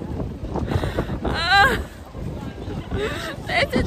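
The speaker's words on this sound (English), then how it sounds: "Oh, it's very windy." Gusty wind buffets the microphone in loud rumbling bursts while people talk and chatter nearby outdoors in London.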